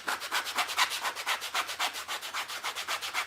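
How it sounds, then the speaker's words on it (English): A painted wooden primitive snowman is hand-sanded after its fibers are dampened. Even back-and-forth rubbing strokes repeat in a steady rhythm, close and clear, with no voices. "That's why I'm going to spritz it a little bit more to wet those fibers up, sand them up."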